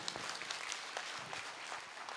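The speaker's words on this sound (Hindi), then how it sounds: "जोरदार तालियां बजाओ" A crowd at a public speech claps steadily and loudly. The broadband applause holds at an even level throughout the short stretch.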